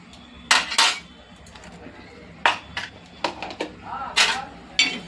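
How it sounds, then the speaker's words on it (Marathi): Mustard seeds and spices are dry roasted in a hot pan over a low flame, with a spoon scraping and clinking against the metal in irregular bursts separated by quiet gaps. "बारीक गॅसवर भाजून घेते, ड्राय रोस्ट करून घेते"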